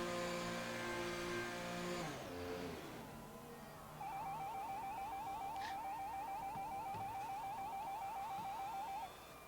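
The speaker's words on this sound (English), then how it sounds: "that definitely sounds like there's a car coming down the pits." A race car in the pit lane in the F1 2020 racing game gives off a steady, wavering high engine whine from about midway on, held at an even level after a louder, tonal opening.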